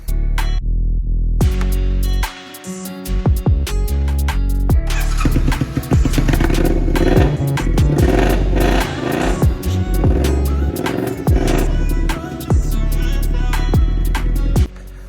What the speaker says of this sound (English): I can start the bike up.